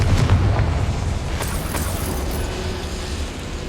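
Confringo fire spell exploding in the Hogwarts Legacy video game, a heavy boom followed by a rumbling decay with a few sharp crackles and pops, loud and close with no speech.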